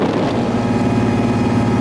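A 9570 tractor runs steadily while planting corn, its engine giving a loud, constant low drone with a harmonic hum and no breaks.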